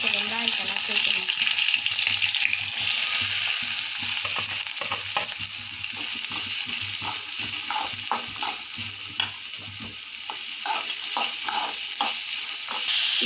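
Chopped onions hit hot oil in a pan, giving a bright, continuous close sizzle with scattered scraping and stirring clicks, easing off a little partway through.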